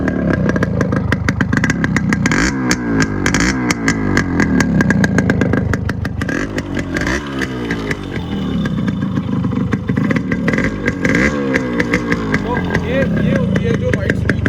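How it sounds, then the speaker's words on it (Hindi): Yamaha RX100 two-stroke motorcycle kick-started and running, its engine popping and revving in uneven bursts with rattly idle between, loud and close throughout while someone talks over it. "अब आज जो आपको हम इसकी आवाज़ सुनाते हैं ये इंडियन जो वर्जन है इसकी आवाज़ कैसी होती है बाइक की।"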